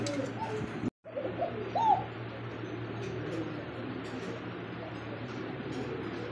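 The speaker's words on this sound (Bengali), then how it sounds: "এই জায়গায় কিন্তু কোকা কবুতর, আর ডাকটাকে দেখছেন" A Koka pigeon gives soft, low cooing calls close by over a steady background hum, after a brief cut-out near the start.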